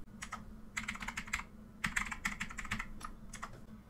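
Typing on a computer keyboard to enter a search into Windows 11 File Explorer: quick clusters of crisp key clicks in uneven bursts, close and clear over a faint steady hum, with no talk.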